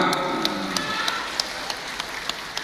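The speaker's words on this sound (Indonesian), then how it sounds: "Tepuk tangan untuk Khairul Anam" An audience applauds for Khairul Anam: a dense, steady wash of many hands clapping throughout, with a few sharper individual claps standing out, and no voices over it.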